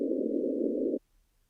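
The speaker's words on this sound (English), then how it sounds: "we'll get an atmosphere sound like this" A heavily detuned synth atmosphere pad for psytrance, a steady buzzy band of sustained tone held for about a second and then cut off, alone and fairly quiet.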